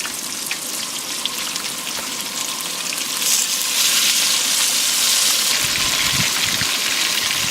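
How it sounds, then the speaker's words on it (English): Onions and potatoes fry in a pan at a campsite, giving off a loud, steady hiss and crackle that swells into a fuller sizzle partway through, close up. "I'm going to go ahead and add the onions in, and then I'm just going to cook them until these onions are nice and limp"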